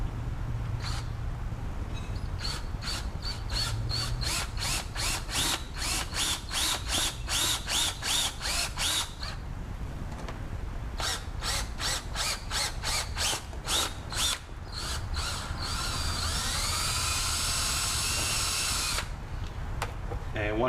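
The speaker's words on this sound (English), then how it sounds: "And we're going to drill the bigger stepped." A stepped drill bit enlarges a pilot hole in the hood of a 2015 Mustang, a loud power drill whirring close up in bursts broken by rapid ratcheting clicks, ending with a rising whine as the bit cuts through.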